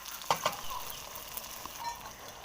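Thin eggplant slices coated in egg fry quietly in a pan, giving a faint, soft sizzle. A couple of brief clicks of handling sound near the start.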